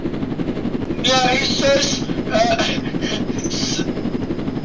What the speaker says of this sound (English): Yeah, I'm actually in one of the steering helicopters.